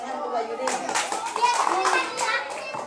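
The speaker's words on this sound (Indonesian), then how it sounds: "Tepuk tangan untuk Pak Yuni." A class of children claps for a teacher, Pak Yuni, with a burst of rapid hand claps at close range mixed with children's voices and chatter.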